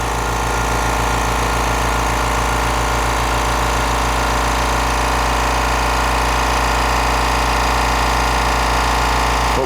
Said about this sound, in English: So there's one tire taking off 4 lug nuts.